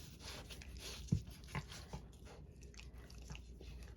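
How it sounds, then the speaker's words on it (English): A small puppy bites and chews with quiet, soft mouthing sounds and a few light snaps, close by in a calm, otherwise silent room. "he's just trying to do a little tiny puppy biting"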